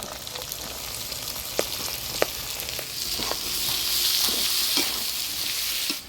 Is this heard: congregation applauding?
no